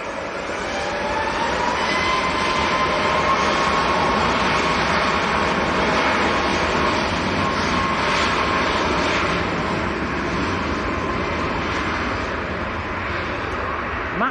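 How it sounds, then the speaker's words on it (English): A TUI Dreamliner airliner roars on its takeoff run at Manchester Airport, a loud, steady, broadband engine rumble that holds for the whole stretch. "The TUI Dreamliner's coming across on our right as well."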